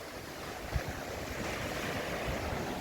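Sea waves wash steadily onto a seashore under a clear sky, making a continuous broadband rush with a soft thump early on and light wind buffeting the microphone; no one speaks.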